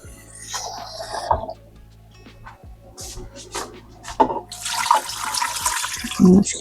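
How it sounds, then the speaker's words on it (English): Water runs from a kitchen tap into a cooking pot, hissing in uneven bursts alongside clinks and handling noises, close to the microphone. "And then what I'm going to do is I'm going to put water."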